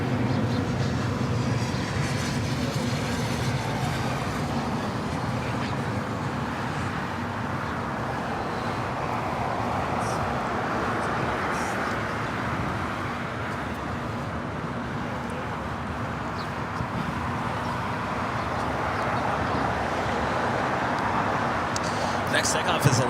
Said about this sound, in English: Next takeoff is Alaska SkyWest, flight 3451, heading to SFO and at E175.